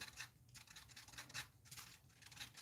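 Rhythmic scraping and smearing strokes repeat close by, a gritty back-and-forth sound of filler putty being mixed with a tool.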